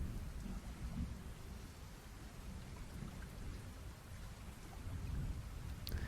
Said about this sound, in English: We got some rain going on.